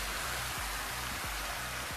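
Water overflowing from a water tower comes down as a steady dense rain-like hiss, constant and fairly close, with faint low rumbling beneath and no talk.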